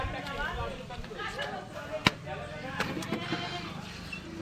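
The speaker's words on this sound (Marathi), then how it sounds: "बकराचा बली दिला जातो, त्यासाठी हा बकरा आहे, तुम्ही बघू शकता" A goat kept for sacrifice bleats at a Konkan jagran gondhal ritual, its cries rising briefly amid steady background voices and crowd bustle, with one sharp knock partway through.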